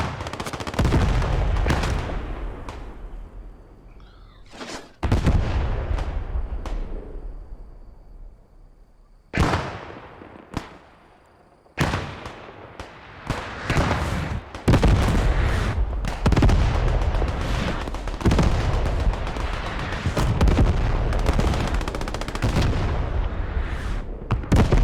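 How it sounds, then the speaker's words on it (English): German 88 gun and surrounding gunfire in the World War II game Post Scriptum, heavy booming shots with long rumbling tails, a pause, then rapid repeated blasts and crackling rifle and machine gun fire, loud and sustained. "there's the first shot from the 88"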